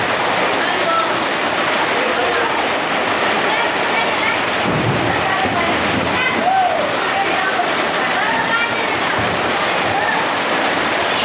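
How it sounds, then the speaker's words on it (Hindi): Heavy rain during the first thunderstorm of 2021 in a town, pouring steadily as a dense, constant roar with occasional low thunder underneath. "बारिश आ रही है काफ़ी स्पीड में। देखिए बारिश काफ़ी स्पीड में आ रही है।"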